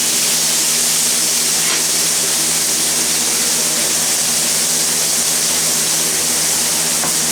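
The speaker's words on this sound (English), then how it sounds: "I'm going to sear the other side of the steak for about 2 minutes now." A steak sears in a hot pan, giving a steady, loud broadband hiss and sizzle that holds evenly throughout without pause, with no voices.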